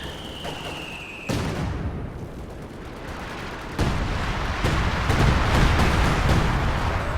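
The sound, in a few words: time-on-target artillery barrage on a Pak 43, video game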